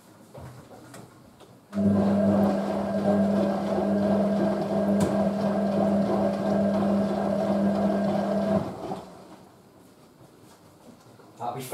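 A Hotpoint 9530 Electronic 1000 Plus washing machine starts its first spin with a loud, steady motor hum and whine. The drone rises abruptly, holds for about seven seconds, then drops to a quieter rumble as a voice talks over it.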